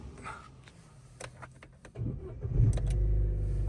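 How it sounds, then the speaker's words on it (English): A 2011 Vauxhall Corsa 1.4 SRI (fourth-generation Opel Corsa D) is heard after a few quiet clicks and taps: the starter churns briefly, then the engine catches and settles into a loud, steady idle close by. "I'll start this car up so you can have a listen to it."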